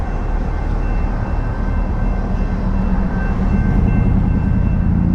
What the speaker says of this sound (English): but I see a train. That must be the loud one we've been hearing.